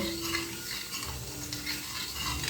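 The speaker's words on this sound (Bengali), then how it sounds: "এবারে জলের সঙ্গে এই মশলাটা খুব ভালো করে মিশিয়ে নিতে হবে" Coriander and cumin powder being mixed thoroughly into water, a soft continuous swishing and stirring close by, with no voices.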